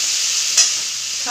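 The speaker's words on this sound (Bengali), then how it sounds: "এবারে দিয়ে দিব টমেটো কুচি।" Chopped tomato going into a hot pan while cooking a homestyle potato and onion dish, with a steady loud sizzle throughout and a brief sharper hiss burst as the pieces hit the oil.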